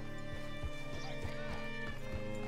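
Horse hooves clip-clop in a steady rhythmic gait in Red Dead Redemption 2, regular thuds over a continuous game music bed with no talk.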